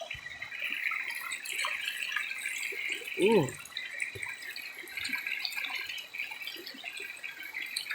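A clear, shallow stream flows in a steady, soft babble with a few trickles and drips, with a brief voice partway through.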